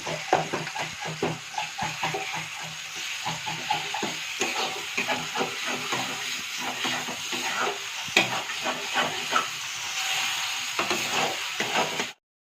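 A spice paste is sautéed in a pan for a chicken leg-piece bhuna, with a steady sizzle and frequent scraping stir strokes running close and continuous for the whole stretch.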